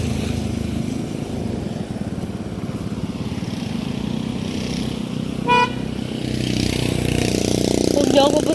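A motorized tricycle engine putters close by in a steady rough drone, with one short horn toot midway, and the engine grows louder toward the end as people talk around it.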